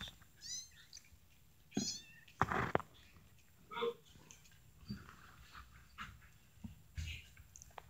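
Several young kittens meow in short, high, separate cries spaced a second or so apart, close and fairly quiet in a calm indoor setting.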